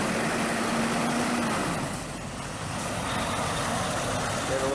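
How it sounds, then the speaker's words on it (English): A Volvo truck idling after running all night gives off a steady, dense diesel rumble that fills the whole stretch, loud and close with no clear break. "this Volvo, I'd say he's been idling all night"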